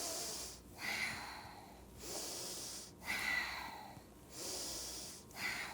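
Slow, steady yoga breathing during a beginner vinyasa flow, with long airy exhales through the nose repeating about every two seconds, close and fairly soft.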